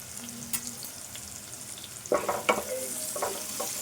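Green chilies and turmeric frying in a pan, giving a steady soft sizzle with a few louder clinks and scrapes of stirring toward the end; no one talks.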